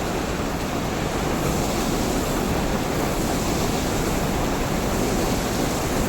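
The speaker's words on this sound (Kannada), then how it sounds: "ಗೇಟ್ ಓಪನ್ ಮಾಡಿ ಆ ನೀರು ಬಿಟ್ಟಿರೋಂಥ ಜಾಗ ಇಲ್ಲಿ ನೀರು ಹೋಗ್ತಾ ಇದೆ" A loud, continuous roar of water rushing from the opened gates of the Vanivilas dam fills the scene, broad and unbroken like a heavy torrent.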